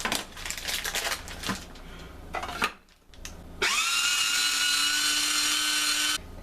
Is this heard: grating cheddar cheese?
yes